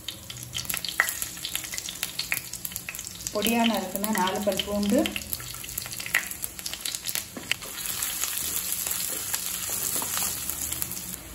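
Ginger and garlic sautéing in ghee and oil for a drumstick-leaf soup, a soft steady sizzle with occasional stirring scrapes, while someone talks over it in the middle.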